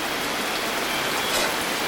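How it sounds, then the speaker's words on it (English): Steady, dense rain falls on a houseboat at night, a loud constant hiss of drops hitting the surface close by with no pauses, and no voices. "Oh yeah, and it rains harder, really?"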